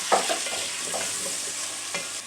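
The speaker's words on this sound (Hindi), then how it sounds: "अब ये चिकन की अच्छी तरह बुनाई करूँगी।" Chicken pieces stir-fried with golden-browned ginger and garlic, a steady close sizzle of oil with soft scraping and stirring strokes on top.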